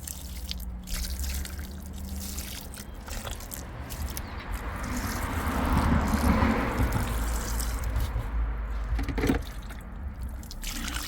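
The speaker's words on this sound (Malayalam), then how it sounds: "ഇനി നമുക്കിത് രണ്ടും ഒന്ന് വെള്ളം ഒഴിച്ച് വയ്ക്കാം" Water pours and trickles steadily into the soil of potted basil plants, swelling in the middle then easing, with a few drips and splashes.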